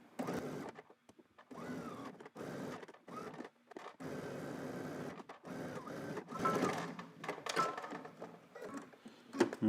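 A sewing machine stitches around a pants piece in short bursts with brief pauses between them, close by and moderately loud.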